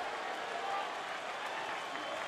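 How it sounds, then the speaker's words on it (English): Baseball stadium crowd buzzing and cheering after a Kemp single, a steady dense roar of many voices with scattered applause, loud and continuous without a break. "Crowd still on its feet, buzzing from the Kemp single."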